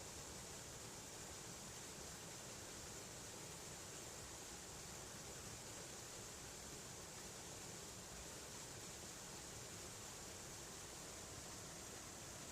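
A waterfall pours in a steady, even hiss of falling water, soft and unchanging throughout, with no other sounds over it.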